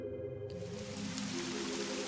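Steady rain pours down during a night storm, a soft continuous hiss of falling water that starts abruptly after a brief quiet moment and stays at an even, moderate level.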